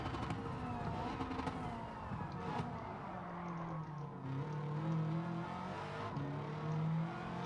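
A Subaru Impreza WRX STI racing on Tokyo Expressway in Gran Turismo 7 holds a steady engine drone that shifts pitch with short upshifts, moderately loud and continuous.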